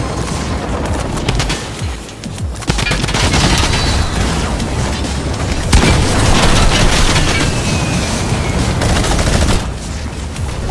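Continuous rapid gunfire from a minigun in a video game, a dense, loud and sustained barrage of shots with booming impacts that roars on for the whole stretch with no pauses.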